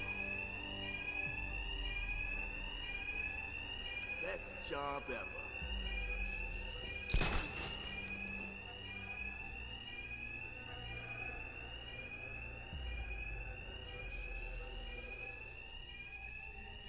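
Repeating electronic alarm rings steadily throughout a Batman: Arkham Knight game scene, a high pulsing tone under a voice, with one sharp loud hit partway through.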